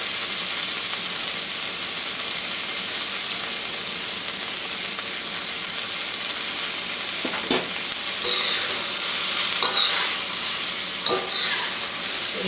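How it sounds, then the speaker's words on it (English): Chicken, onion, garlic and broccoli stir-fry in a wok with a steady, loud hiss of frying, broken near the end by a few scraping stirs and metallic clinks. "Then throw in the onion and the garlic, and now the broccoli."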